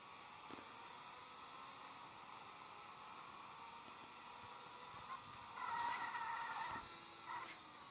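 Tires squeal faintly as a car skids through a turn in a video game, a thin hissy screech that swells near the end over a quiet background whoosh.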